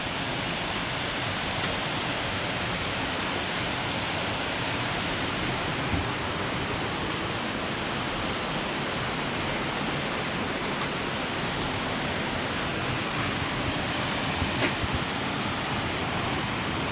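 Waterfalls and flowing water at Old Man's Cave, a dense, constant broadband roar of rushing water that stays steady and loud throughout, with no talking.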